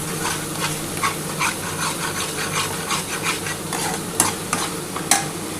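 Spice paste of ground mustard and sour yogurt with tomato frying in a pan for a bhola fish curry, a steady close sizzle with repeated scraping stir strokes and a few sharper scrapes near the end.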